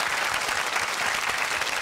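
Steady audience applause from a crowd at a Korean military TV show gathering, dense, even clapping filling the whole short stretch without voices.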